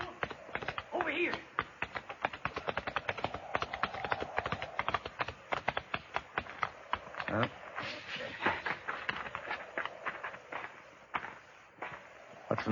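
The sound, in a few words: horse hooves clip-clopping in radio drama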